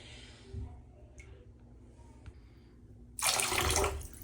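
Kitchen and bath towels are pushed into bleach water in a sink, with soft sloshing followed by a louder burst of splashing and rushing water near the end, no voices.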